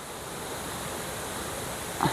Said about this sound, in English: There's sort of water running through here.